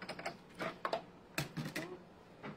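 A paper crafting machine feeding a taped project through: irregular close clicks and mechanical ticks with short whirring bursts, fairly quiet, no talking.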